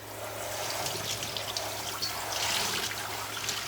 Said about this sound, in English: And I'm just using tap water.